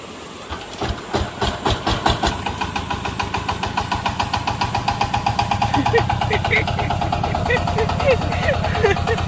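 A power tiller engine starts with a few rough thumps, then settles into a loud, steady chugging idle with rapid regular beats, close by, while people talk over it.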